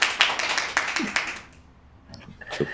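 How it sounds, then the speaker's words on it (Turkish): Applause at a Turkish business award announcement ceremony, a brief burst of scattered clapping from a small audience that fades out after about a second and a half, with a voice speaking faintly afterward. "Alkışlar da geldi."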